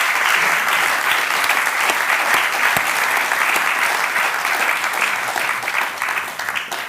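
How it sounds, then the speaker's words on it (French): A large audience applauds loudly and continuously, a dense wash of clapping that tapers off slightly at the end. "Vous pouvez les applaudir aussi"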